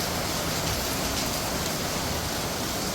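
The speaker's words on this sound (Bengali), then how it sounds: "দেখো না কি বৃষ্টি" Heavy rain pours down on a dark, stormy day, making a dense, steady hiss that stays even and unbroken throughout with no voices.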